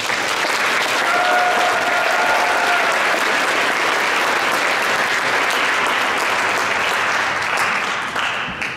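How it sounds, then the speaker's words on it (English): A crowd at a science fair awards ceremony gives a long, loud, unbroken round of applause for junior innovator finalists, dense clapping sustained throughout before tapering slightly at the end. "so we will give them a round of applause."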